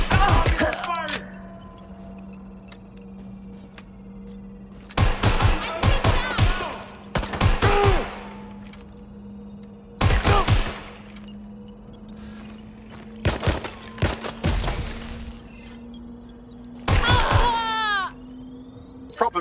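Repeated bursts of gunfire in the video game Watch Dogs Legion, loud volleys and single shots in clusters separated by pauses, with a steady low hum underneath and brief game voices between shots.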